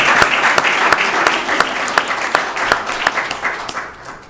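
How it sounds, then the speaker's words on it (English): Sustained audience applause at a city council meeting, many hands clapping in a dense patter with distinct sharp claps standing out, holding steady before tapering off at the end. "Yeah, you can give yourselves a round of applause."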